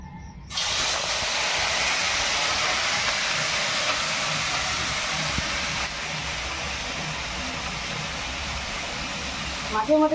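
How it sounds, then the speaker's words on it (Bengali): Small mourala fish frying in hot mustard oil in a wok. A loud, steady sizzle bursts in after half a second and roars on without a break, easing slightly later, with a few clinks at the very end. "তেলটা গরম হয়ে গেছে, মাছগুলোকে ভেজে নেব।"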